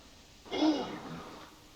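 A single short sneeze, fairly soft and close, bursting out suddenly and trailing off into a breathy tail.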